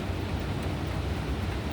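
Strong typhoon wind during a signal no. 10 storm, roaring as a loud, continuous broadband rumble with heavy low-end buffeting, close and unbroken, with no voices.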